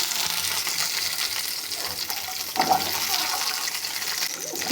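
Small shallots sautéing in coconut oil in a pan, a constant bubbling sizzle with one brief louder stir or scrape midway, close and moderately loud, without speech.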